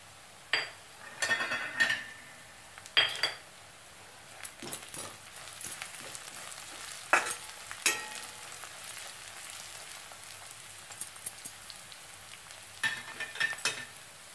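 Chopped green chillies fry with onion in a pan for egg bhurji, with a low sizzle under scattered metallic clinks and scrapes of a spatula, close and fairly quiet.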